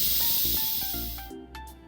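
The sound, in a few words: Instant Pot releasing steam after cooking chili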